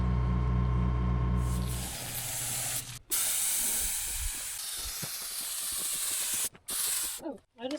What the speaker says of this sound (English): Oh, I just lost air pressure.